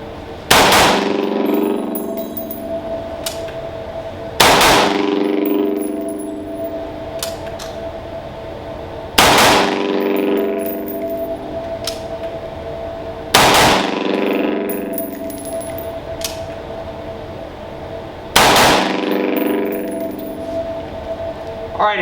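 Rifle fired with an optic-mounted sight on an outdoor shooting range, sharp loud reports arriving in roughly evenly spaced bursts every few seconds, each followed by a ringing decay and steady background hum.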